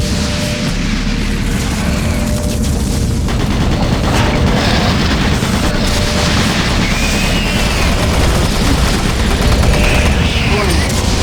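Automated turret guns in Doom 3 on the monorail level fire continuously amid dense booming and explosions, loud and unbroken throughout.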